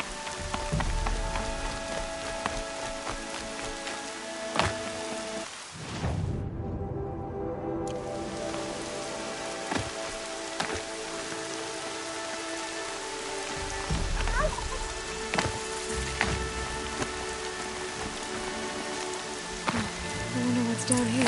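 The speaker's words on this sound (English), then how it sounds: "Rain's not so bad." Steady rain falling in the video game Horizon Zero Dawn, a continuous hiss of drops on surfaces lasting throughout, with footsteps and other game sounds layered over it and a brief dropout partway through.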